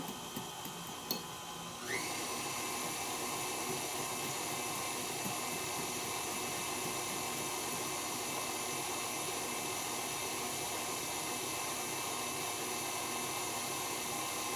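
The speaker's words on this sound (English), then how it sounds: "At this point, I am going to slow the mixer down." Electric mixer running steadily through muffin batter for citrus cranberry muffins, starting with a click and then a continuous even motor whir with a sustained high whine, close and alone with no talk.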